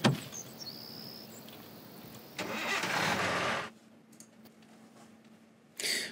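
A car engine in Thief Simulator starts with a click and a turnover, revs loudly for about a second, then settles into a quiet idle before another brief rev at the end.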